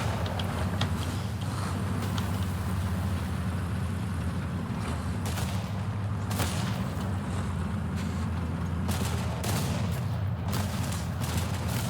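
Video game gunfire crackles in rapid bursts over a constant low engine drone, with sharp shots scattered throughout and no talking.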